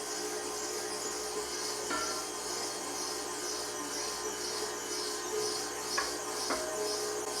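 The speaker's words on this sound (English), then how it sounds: "The second grinding using the same grinding tool, so we're not making it any finer" An electric meat grinder running venison through a second grind: a steady, continuous mechanical whir and hiss at an even level, with a couple of faint clicks, no voices.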